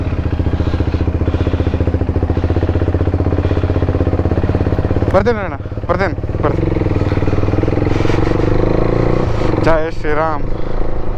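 A motorcycle engine idling with a rapid steady chug, then revving and pulling away with rising whines, near and loud, while someone speaks briefly over it.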